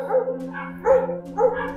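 A dog barks at an abandoned resort beside an old pool, giving three loud, fairly close bursts about half a second apart over a steady low hum.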